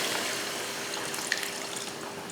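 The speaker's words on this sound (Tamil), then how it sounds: "மிளகாத்தூள் போட்டதுக்கப்புறமா நல்லா கலந்து விட்டுட்டு இப்போ தண்ணி சேர்த்துக்கலாம்" Water is poured into a pot of chicken curry, a soft, steady liquid splashing and trickling heard close and fairly quiet for a couple of seconds, with no voices.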